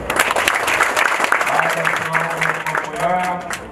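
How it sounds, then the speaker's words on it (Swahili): A crowd at Mzumbe University applauds youths during a national Uhuru Torch event. The clapping is loud and sustained, with voices and a sustained hum or tone running underneath partway through. "wao wapigie makofi"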